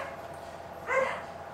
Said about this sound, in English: with the dogs barking